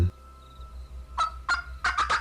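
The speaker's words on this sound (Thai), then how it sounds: "เสียงไก่ป่า ที่พึ่งจะจับคอนกระพือปีก" A wild jungle fowl, just settled on a perch and flapping its wings, gives a few short squawking calls, starting singly and then bunching into a quick burst, close and clear over a quiet background.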